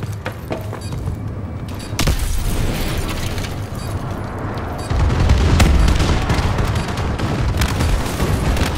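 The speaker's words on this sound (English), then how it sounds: "Friendly bombing run clearing the way" Friendly bombing run explosions in Call of Duty: Advanced Warfare multiplayer: a dense, continuous barrage of loud booms and crackling blasts with rapid gunfire mixed in, swelling heavier partway through, close and intense without talk.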